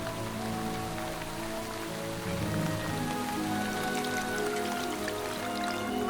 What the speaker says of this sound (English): The rain is becoming heavier.